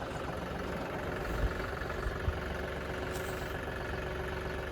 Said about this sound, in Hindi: ये देखिए हम बिल्कुल आराम ट्रैक्टर को नीचे ले जा रहे हैं